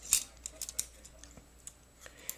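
Scissors handled while vinyl is being trimmed: a string of sharp, brief snips and clicks, the loudest near the start and then scattered through the rest, close by with no talking.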